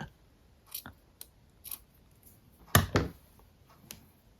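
Scissors cut through fabric and paper junk journal material nearby, giving a few short, separate snips with one louder slicing cut in the middle.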